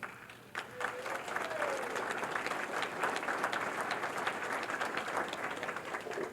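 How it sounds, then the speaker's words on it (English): Banquet audience applause at an award dinner, a steady wash of clapping from a room of people that rises after a brief lull and holds at a moderate level throughout. "why don't we hold the applause so we don't embarrass anybody"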